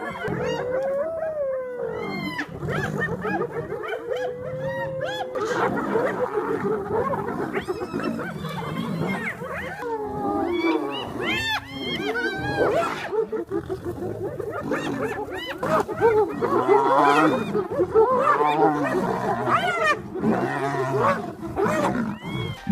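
Lions roar, snarl and growl in a fight with hyenas over food, with yelping whoops and howls mixed in; the close, chaotic clamour continues throughout and grows louder toward the end.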